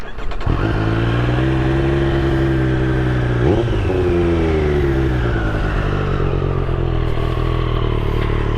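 A Triumph Street Triple RS motorcycle engine idles with a steady, throaty rumble, then blips sharply in one quick rev before settling back to a loud idle.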